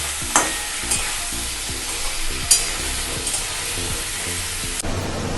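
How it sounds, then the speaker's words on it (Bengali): Potato and eggplant frying with prawns in a pan during Bengali home cooking, a steady close sizzle broken by a few sharp stirring scrapes and clacks, with no talking. "এবার আমি আলু বেগুনটাকে একটু ভাজবো চিংড়ি মাছের সাথে।"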